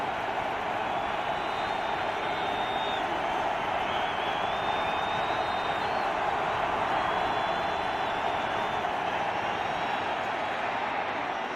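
Steady roar of a large football stadium crowd urging on the Denver Broncos against the Tampa Bay Buccaneers on third down in 2012, a dense sustained wall of voices with faint whistles over it, continuous and loud throughout.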